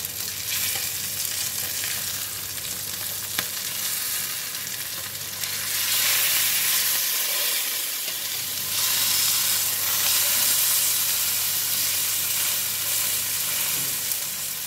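Chicken grilling in a hot pan over low heat, a steady, dense sizzle and crackle that runs loud and unbroken, swelling slightly in the second half.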